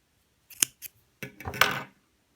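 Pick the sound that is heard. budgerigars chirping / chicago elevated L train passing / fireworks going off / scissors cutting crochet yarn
scissors cutting crochet yarn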